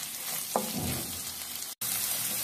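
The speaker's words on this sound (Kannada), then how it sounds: "ಎಲ್ಲ ಸ್ವಲ್ಪ ಫ್ರೈ ಮಾಡ್ಕೊಳ್ಳಿ." Onions frying with fennel seeds in a pan for a rice dish give off a steady close sizzle, with a brief stirring scrape near the start and a short gap of near-silence toward the end.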